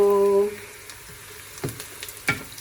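Onion sizzling softly in a pan for stir fry noodles, a faint steady fry with a few small crackles after a brief tone at the start.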